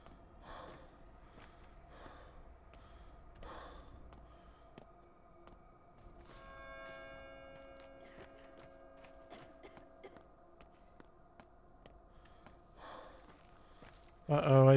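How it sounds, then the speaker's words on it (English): People cough in the video game Pathologic 2. There are several short, quiet, breathy bursts spread across the clip, set against faint game ambience and sustained tones. "Uh-oh, I hear people coughing."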